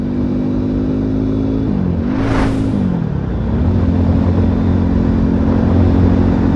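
An Italika Vort-X 300R sport motorcycle engine revving steadily, with a brief rise and dip in pitch midway before settling back into a loud, continuous drone.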